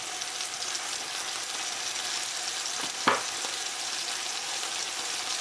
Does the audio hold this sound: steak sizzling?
yes